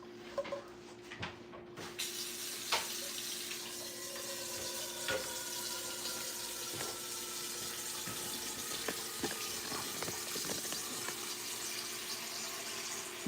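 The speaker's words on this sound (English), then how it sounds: "Fill this with water." Tap water runs steadily into a pot being filled to boil eggs in a home kitchen. A continuous close rush of flowing water carries on throughout with no talking.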